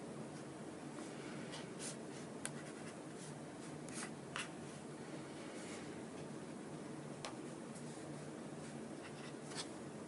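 Pen or marker scratching steadily across paper or a board while a circuit diagram is sketched by hand, faint and continuous with a few light taps and strokes, no talking.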